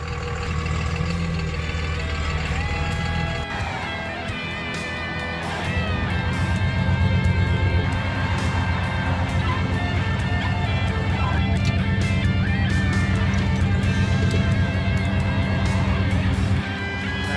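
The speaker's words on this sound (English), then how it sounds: "I'm going to move Dodge forward here and off to the side" A Dodge truck's engine runs as it is moved forward and off to the side, a steady mid-to-low rumble that swells slightly as it gets under way and holds for the rest of the clip.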